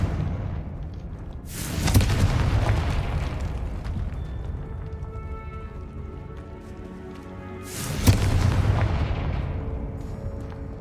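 Blasting spell explosions in the video game Hogwarts Legacy, two loud booming bursts a few seconds apart, each with a sharp onset and rumbling decay over a continuous game background.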